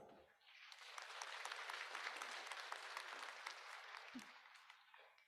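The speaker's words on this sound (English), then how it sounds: "Please give them a round of applause." An audience at the opening ceremony of a European Association for the Study of the Liver event gives a round of applause, steady many-handed clapping that swells in and holds, heard from a distance and fairly faint.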